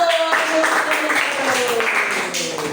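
A primary school class at SD Negeri 1 Larangan claps together for about three seconds, steady and fairly close, with children's voices and a high sustained tone running through it.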